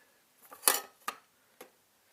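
Metal mess kit lid and pot knocked together in a few sharp clinks and clatters, one louder clang followed by two lighter taps, close and quiet with no talking.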